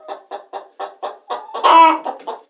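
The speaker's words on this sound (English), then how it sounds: "The chicken." A farm hen clucks close up in a steady series of short, evenly spaced clucks, rising into one louder drawn-out squawk before the clucking resumes, with nothing else in the background.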